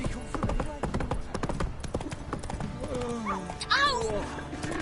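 Hooves of Roach, the horse in The Witcher 3, clop rapidly along the ground in a quick, uneven rhythm, with game music and spoken dialogue layered over them.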